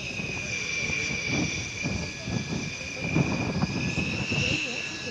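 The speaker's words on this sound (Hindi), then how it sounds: "भारत की राष्ट्रपति Draupadi Murmu Rafale fighter jet में उड़ान भर रही हैं" A Rafale fighter jet flies at Ambala Air Force Station in Haryana, India. Its engines give a steady, loud, whining roar with a high sustained tone and rumbling low end throughout.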